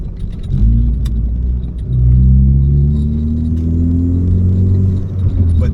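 A Ford Focus ST fitted with a Sidewinder turbo kit drives along, its engine droning steadily with rising tone and a faint thin turbo whistle spooling above the low rumble.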